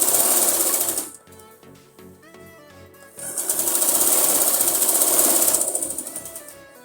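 An electric sewing machine double-stitching a palazzo runs close and loud in a fast steady whir, pauses briefly to a quieter ticking, then starts up again and runs for several seconds before stopping.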